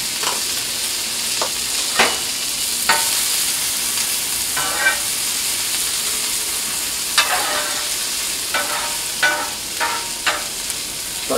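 Half a small white onion, crushed garlic and chili peppers frying in a pan, an even close sizzle broken by several sharp scrapes and clinks of stirring.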